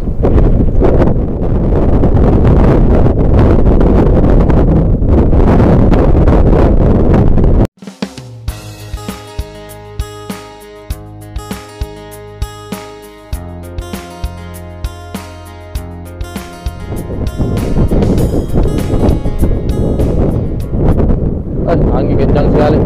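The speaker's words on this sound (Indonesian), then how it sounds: "Angin kencang sekali." Strong wind buffets the microphone on a small fishing boat at sea during ultralight fishing, a loud continuous roar that breaks off partway for a stretch of clattering and tonal sounds, then rushes back.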